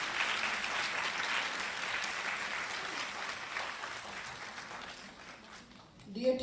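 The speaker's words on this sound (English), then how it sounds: "Let's give a big clap to Dr." An audience of teachers at a school workshop applauds a speaker, a dense steady clapping that carries on for several seconds before thinning out, with a voice beginning to talk at the very end.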